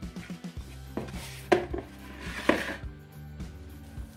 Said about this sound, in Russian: заливаю полученную смесь в муку и замешиваю тесто.